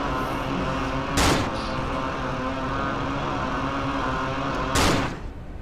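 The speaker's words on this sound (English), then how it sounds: "I heard a gunshot." Two sharp, loud bangs a few seconds apart, gunshots in the video game Cry of Fear, cutting through a dense, steady rumbling background in a subway.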